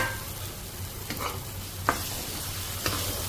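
Leafy greens simmer in a pan with salt, turmeric, a little water and two pieces of fried fish, giving a steady soft sizzle with a few brief stirring clicks, close and continuous under a low hum.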